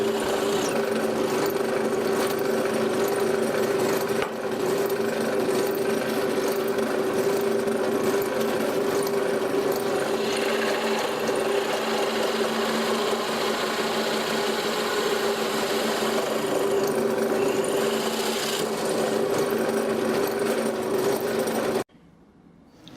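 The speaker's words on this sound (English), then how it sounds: "I'm using my drill press with a hole saw." A drill press with a hole saw whirs steadily through scrap wood with a constant motorized hum and grinding, loud and close, stopping near the end.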